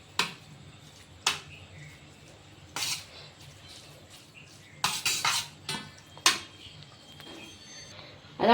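Grated cucumber dough being mixed with salt and sugar in a bowl, heard as sharp scraping and clinking hits of utensil on dish at irregular intervals, close and moderately loud against a quiet background, with no talking.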